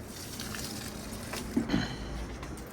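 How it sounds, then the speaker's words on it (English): Water poured from a bucket onto potted plants, a money tree and a fire bush, makes a soft, steady gush with a brief louder splash near the middle. "Let's give this water to this money tree and some to this fire bush."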